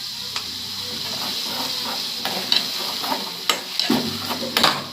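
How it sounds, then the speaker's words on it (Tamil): Ground herb paste sizzles and hisses steadily in a hot pan, with scattered scraping taps of a spoon stirring through it. "இப்போ அந்த விழுதை அதில் போட்டுப்போம். போட்டு நல்லா அதை வதக்கி விடுவோம்."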